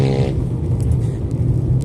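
A kuliglig motorized cart passes on an open road at an early-morning hour, its engine a steady low drone that stays loud and close throughout, with a brief higher whine at the start.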